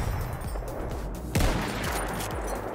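Rapid bursts of close gunfire in the video game Battlefield 1, with a sharper, louder shot midway and steady firing throughout.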